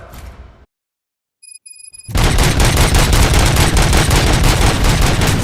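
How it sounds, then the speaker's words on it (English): Rapid gunfire in the video game RoboCop: Rogue City erupts after a brief silence, loud and continuous bursts that keep rattling to the end. "Gunshots? What's going on?"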